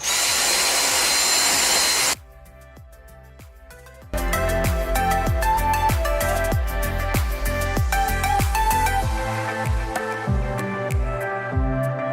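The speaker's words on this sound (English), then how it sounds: "Are you vacuuming?" A vacuum cleaner roars loudly and close for about two seconds, then cuts off abruptly; after a short near-quiet gap, rhythmic music with a steady beat takes over.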